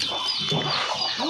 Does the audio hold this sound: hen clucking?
yes